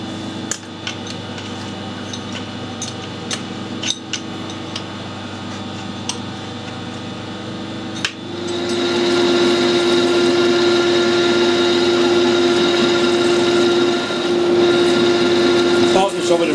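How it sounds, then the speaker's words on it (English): A metal lathe parts off a steel bar at fairly quick speed. Scattered ticks and clicks over a low hum give way midway to a loud, steady cutting whine with a sustained tonal ring that carries to the end. "Part this off at a reasonably quick speed."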